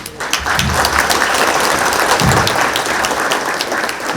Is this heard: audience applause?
yes